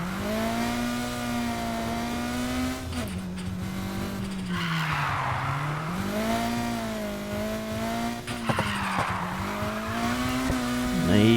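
Driving in the video game Need for Speed Heat: a steady car engine drone shifts pitch as the handbrake is pulled, setting off two loud hissing tire skids, one in the middle and one near the end.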